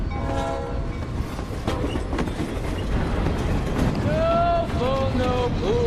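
A freight train rolls along the rails with a steady, loud rumble and rhythmic clatter of wagons, and near the end a horn sounds in a couple of blasts.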